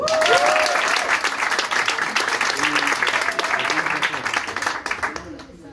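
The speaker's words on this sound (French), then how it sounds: "Applaudissements pour Angela, s'il vous plaît" Comedy club audience applauding a performer named Angela, a dense burst of clapping and a few cheers that swells at the start then thins and fades out, with voices heard over it.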